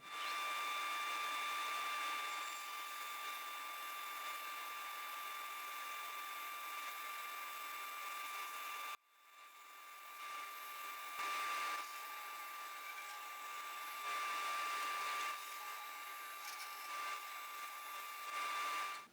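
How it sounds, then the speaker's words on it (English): Wood strips for a Christmas tree project run through a planer, a loud continuous whining roar that breaks off for a moment midway and then resumes steadily. "first on the bandsaw and then put them through my planer"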